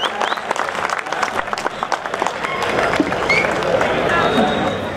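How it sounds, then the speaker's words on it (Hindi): A mushaira audience in Belgaum applauds a poet: dense, continuous clapping from a crowd, loud throughout, with some voices mixed in. "आपके चहीते शायर के लिए आपकी तालियां होनी ही चाहिए"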